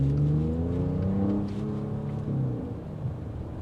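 A 2022 Audi S7 engine revs up and accelerates, its rising harmonic drone loud at first then easing off as it pulls away.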